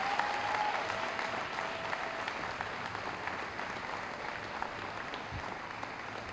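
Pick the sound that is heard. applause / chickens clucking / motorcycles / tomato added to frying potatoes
applause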